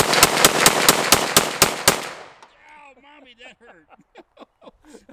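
Rapid fire from a 10mm Hi-Point JXP pistol, eight loud, evenly spaced shots in about two seconds, followed by excited talk from people nearby.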